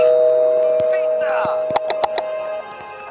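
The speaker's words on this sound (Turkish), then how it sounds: "Şu an zil çaldı arkadaşlar." Three quick bright bell-like chimes ring out in the game Runaway Boy House Escape, layered over a steady electronic tone and busy effects.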